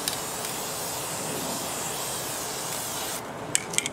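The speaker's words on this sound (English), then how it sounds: "You're about 8 to 10 inches from the model. Just kind of a light spray across the top." An aerosol can sprays adhesion promoter in a light, even pass over a plastic USS Discovery model kit, a steady close hiss lasting about three seconds before cutting off, followed by a few small clicks.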